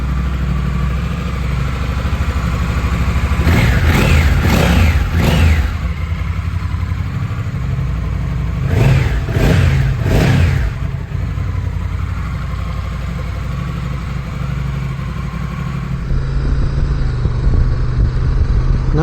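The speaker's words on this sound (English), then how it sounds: "obviously Africa twin engine in the NT, but they've got a nice rasp to them through the exhaust" A Honda NT1100 with the Africa Twin parallel-twin engine idles loudly with a raspy exhaust note, then blips its throttle in two bursts of three quick revs before dropping back to a steady idle.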